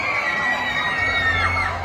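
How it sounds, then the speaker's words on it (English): At a Disney park with the castle lit up blue, a crowd cheers and shouts. The sound comes as a steady, distant wash of voices and whoops that swells slightly partway through. "There's been cheering."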